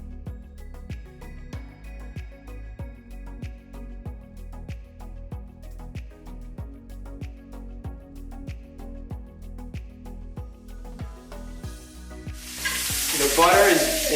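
A prime steak fries in browning butter with garlic and thyme while a spoon bastes it in a steady, repeated rhythm of soft scrapes and taps, ending in a sudden loud burst of sizzling.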